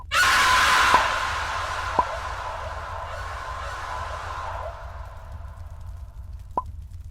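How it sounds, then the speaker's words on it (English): A video game character screams in a loud, broadband burst at the start that fades over several seconds, with a few sharp knocks and a low steady hum underneath; no one talks. "It sounded like Chain screaming."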